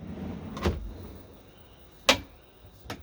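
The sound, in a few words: soft-close drawers in a Knaus motorhome kitchen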